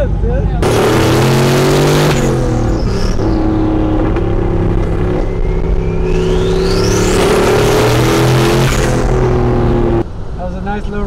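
A supercharged Ford Raptor truck roars loudly as it accelerates hard, engine pitch climbing and a whine sweeping upward, close and sustained before cutting off near the end.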